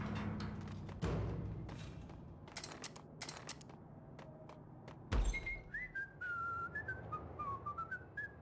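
In the Max Payne video game, a character whistles a tune near the end, clear melodic notes following dull thumps, faint clicks and a sharp knock, with no speech.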